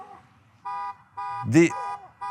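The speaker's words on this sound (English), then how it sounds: "How have you not turned off your car alarm?" An electronic car alarm blares in repeating tonal bursts, one warbling siren-like sweep among them, loud and close.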